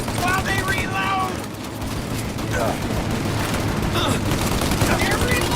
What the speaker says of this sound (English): Shoot out their gun when there's a break in the fire!